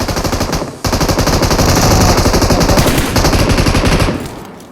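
Sustained automatic gunfire from a spray of shots in the mobile battle royale game BGMI, a loud rapid rattle running almost without pause through the clip, with a brief gap near the start and a trailing cut-off at the end.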